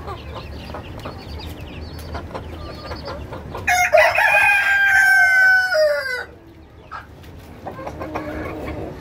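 A Brahma rooster crows once, loud and close, in a single drawn-out call of a few seconds, with quieter farmyard noise before and after.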